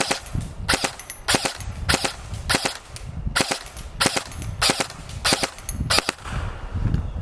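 A Barra 400E Gen 2 electric BB gun fires in full-auto bursts, sharp rapid cracking pops in about eight clustered volleys with short pauses between them, close and loud.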